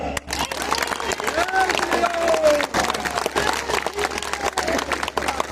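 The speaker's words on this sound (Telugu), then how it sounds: "గట్టిగా మన కరతాళ ధ్వనులతో ఆమోదాన్ని తెలియపరుద్దాం" Applause from an audience at a Hindu gathering in Peddapuram, a dense spread of clapping with crowd noise running throughout, loud and steady, rising slightly mid-way.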